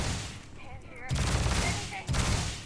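Bursts of rapid rifle gunfire from the video game Starfield crackle loudly in quick successive volleys, with a brief lull between them and a voice partly underneath.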